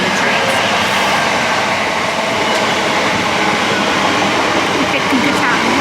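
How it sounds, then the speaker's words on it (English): Trains passing on a busy railway line near a factory, a steady loud rumble with faint rail clatter filling the whole stretch, while someone talks intermittently over it. "It's a bit busy around here with trains."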